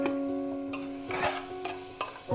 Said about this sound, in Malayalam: എന്നിട്ട് ജസ്റ്റ് ഒന്ന് വഴറ്റി കൊടുക്കണം. നന്നായിട്ടൊന്ന് മിക്സ് ചെയ്ത് കൊടുക്കണം.